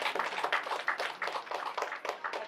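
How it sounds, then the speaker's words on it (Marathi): Audience applause at a live stage drama show, dense and steady clapping from a crowd that holds for a few seconds. "आहेत, जोरदार टाळ्या."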